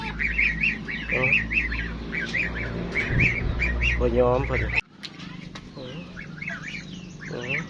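Geese honk and squawk in repeated nasal calls close by, with a person speaking over them; after a sudden cut the honking continues more faintly.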